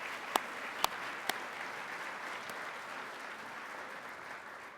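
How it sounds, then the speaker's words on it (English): Conference audience applauding in a large hall, a soft, steady wash of clapping heard from a distance, with a few sharp, close claps near the start. "please give them a round of applause."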